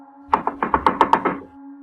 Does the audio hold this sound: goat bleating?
no